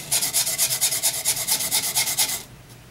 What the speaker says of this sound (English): I'm doing some hand sanding